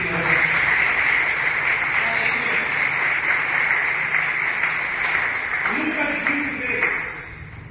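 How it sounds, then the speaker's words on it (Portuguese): Steady applause from a church congregation during a service fills the space, continuous and fairly loud, tapering off near the end with voices underneath. "Aplauda Jesus Cristo."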